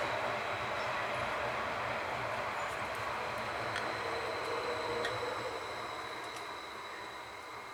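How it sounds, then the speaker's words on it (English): A train passes at a distance, a steady rumbling wash with faint rhythmic clicks of wheels on rail, gradually fading toward the end. "Hi, Mr. Train."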